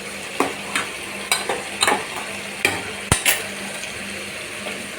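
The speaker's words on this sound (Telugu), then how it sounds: "ఇప్పుడు కొంచెం కలదిప్పుదాం మనం." A spoon stirs mutton and brinjal curry in an oiled pan, giving a run of close scraping sweeps and clinks over a faint sizzle, with no talking.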